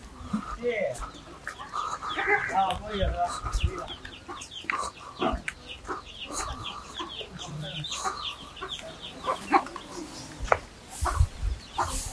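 Village hens clucking and squawking in short bursts, fairly close, mixed with bustle and people talking throughout.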